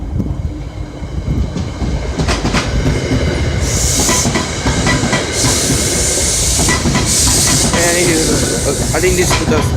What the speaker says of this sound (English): I think this is the express train.